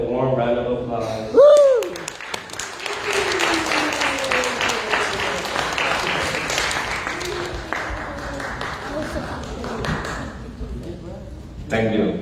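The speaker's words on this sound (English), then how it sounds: "Please welcome him with a warm round of applause." Audience applause fills a graduation ceremony hall at a Saturday school end-of-year celebration, steady clapping from many hands sustained for several seconds after a brief announcer voice, fading slightly near the end.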